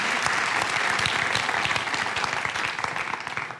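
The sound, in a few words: audience applause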